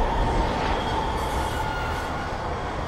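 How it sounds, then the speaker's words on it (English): Train in the film Batman Begins, a steady loud rumble of railcars on the track with faint wheel squeal, continuous and close, with no talk over it. "that train's scary, bro"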